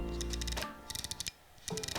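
Aperture ring of a 7artisans 35mm F1.4 III lens clicking through its detent stops: quick, crisp, close-up clicks in two short bursts, with no talking.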